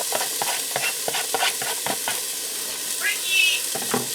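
Diced onion sizzles in butter and olive oil in a Ninja Foodi, a close steady frying hiss broken by repeated stirring scrapes and a short squeak near the end.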